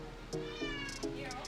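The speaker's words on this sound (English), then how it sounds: "Most cats are very vocal, and when a cat is vocal, I talk right back to them." A Maine Coon cat being groomed gives several short meows in close succession, heard near and clear with a voice talking alongside.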